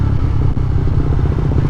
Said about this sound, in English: the way this bike accelerates, it's like it's quicker than a 125 should be